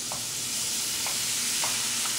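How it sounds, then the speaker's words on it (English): Onions sizzling in a stick of melted butter, a loud steady hiss with faint stirring taps recurring every half second or so, close up and without talk. "1 stick of butter, throwing the onions in there"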